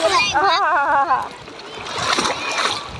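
Water splashes loudly and irregularly as people play in it, while excited voices, including children, chatter and shout nearby.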